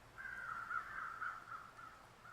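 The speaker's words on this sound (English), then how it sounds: "Now I can hear the crows." Crows caw continuously in the video game The Long Dark, a steady run of harsh calls sounding moderately distant over a quiet ambient background.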